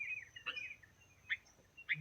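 Bulbuls feeding in a flowering tree, giving a few short, bright chirps scattered across a quiet background, fairly faint and spaced irregularly.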